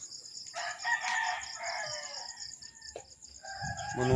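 A rooster crows loudly nearby, followed by scattered clucking from hens and other farmyard birds in the background.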